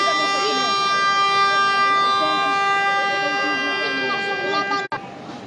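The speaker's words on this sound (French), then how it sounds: "La sirène qui a retenti." A siren sounds outdoors at a public test in Quissac, a loud steady tonal wail holding for several seconds with faint voices and background noise, ending in a brief clunk.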